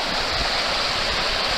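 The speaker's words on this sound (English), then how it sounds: "Nice little bit of white water running in there, heavily oxygenated and just quite deep." White water rushing through a summer trout stream, a dense, steady roar of turbulent water, loud and continuous with no talking.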